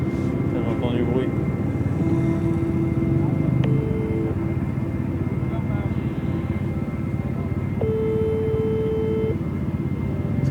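A helicopter's engine drones steadily through a phone line, a continuous muffled roar with faint tonal whines. The caller is aboard during the Rallye du Maroc 2023, and the noise fills the whole connection.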